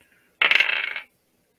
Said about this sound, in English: now we get to roll our dice again.